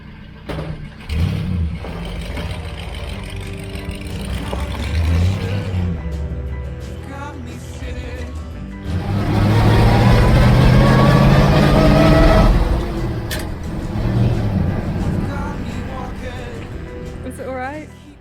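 A 1970s fire truck engine drives and revs, rising to a loud, rough roar midway before settling back, with bumpy cabin rattles throughout.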